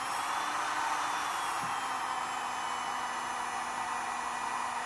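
A Parkside PHLGD 2000 C4 digital hot air gun runs with adjustable airflow and temperature, giving a steady, fairly quiet blowing hiss that holds without change throughout.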